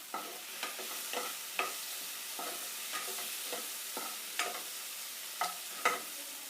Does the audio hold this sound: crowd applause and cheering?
no